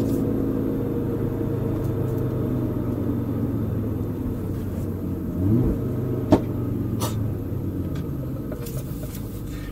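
A 2015 Audi RS3 2.5 TFSI engine rumbles steadily from inside the car, with a gentle swell in pitch as it speeds up and a short knock partway through.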